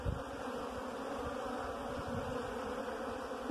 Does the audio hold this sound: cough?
no